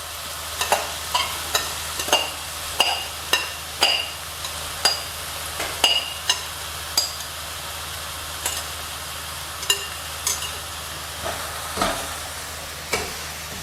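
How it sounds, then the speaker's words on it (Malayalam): Ginger frying in hot oil in a home kitchen for a ginger curry, with a steady sizzle under repeated sharp clinks as a spoon stirs against the pan at a regular, unhurried pace. "എണ്ണ ചെറുതായിട്ട് ചൂടായി കഴിയുമ്പോൾ ഇഞ്ചി നമുക്ക് ഇതിനകത്തേക്ക് ഇട്ട് ചെറുതായിട്ട് വറുത്ത് കോരാം"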